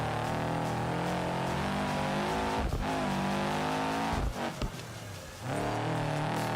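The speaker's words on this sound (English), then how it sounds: "I think we're getting valve train damage, which was affecting the sound of the car." In the BeamNG driving game, a car engine with valve train damage drones loudly and steadily under load, with harmonics that dip and shift as the revs change, and the tone breaks up briefly twice before it resumes.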